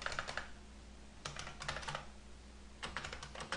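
Keys clatter on a computer keyboard as a restart command is typed, with quiet close-up clicks coming in short rapid bursts separated by pauses.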